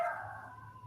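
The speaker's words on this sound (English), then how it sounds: "So that's my dog saying hello." A pet dog gives a brief bark or yelp up close in an art studio, a single short vocal burst that fades out, with no talk over it.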